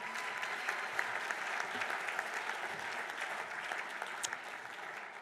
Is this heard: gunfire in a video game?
no